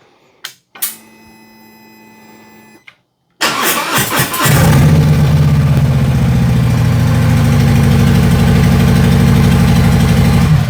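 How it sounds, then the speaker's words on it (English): Harley-Davidson big V-twin motorcycle starter whirring briefly after a short tone, then the engine catching and settling into a loud, steady, loping idle close by. "That's the way a starter on a big V-twin should sound like"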